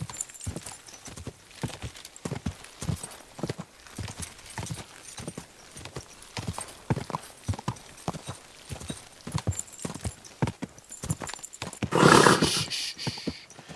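Horse hooves clip-clop in a steady rhythm through Kingdom Come Deliverance 2 gameplay, close and moderately loud, with a louder burst near the end that suggests a neigh or whinny, and a few spoken words mixed in.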